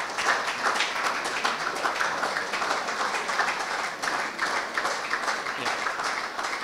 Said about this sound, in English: stand and applaud your parents and the coaches for their support for you